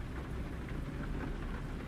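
Steady rain in the American Truck Simulator video game, a constant low rumbling wash with dense patter and no voices.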